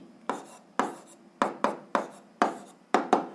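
Pen strokes on paper while a math answer for an 8th-grade algebra equation is written out, eight short scratchy strokes in an uneven rhythm, close and fairly quiet.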